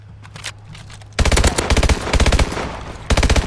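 Gunfire in Call of Duty: Advanced Warfare during an Infected match. A few faint shots are followed by loud, close bursts of rapid automatic fire, with short gaps between the volleys.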